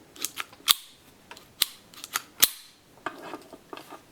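Excam GT-27 pistol in .25 ACP handled close up, with a series of crisp metallic clicks and snaps as the slide is pulled back and the safety engaged, several sharper clacks standing out among lighter mechanical ticks.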